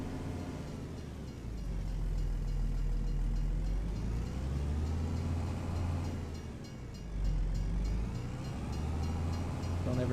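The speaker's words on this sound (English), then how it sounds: "The train is really moving." A train moving through a railroad crossing in a farming video game, a heavy low rumble of engine and wagons with a rising and falling whine, loud and steady for the whole stretch.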